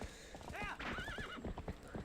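A horse in the video game The Legend of Zelda: Twilight Princess HD whinnies with a wavering neigh amid clip-clopping hooves, moderately close over busy in-game sound.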